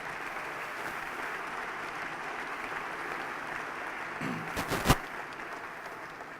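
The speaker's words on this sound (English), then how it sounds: "please give yourselves all a big round of applause" Dinner guests at an Irish fund gala applaud in a large room, a sustained wash of clapping from many hands with a couple of sharp, louder claps or knocks near the end.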